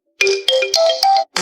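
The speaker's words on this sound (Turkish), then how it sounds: "Uygulamak istediğiniz melodinin üzerine dokunun" Ringtone melody on an OPPO Find X9 Pro smartphone: a short, bright electronic tune of several quick chime-like notes, clear and close, with no voices.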